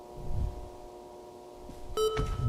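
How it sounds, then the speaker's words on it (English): A few short electronic beeps sound close and clear, one after another, with soft low rumbling around them and no voices. "I hear beep."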